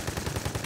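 Rapid automatic gunfire from the video game Army of Two: The Devil's Cartel rattles in a quick, evenly spaced burst of shots, fairly loud and with no talk over it.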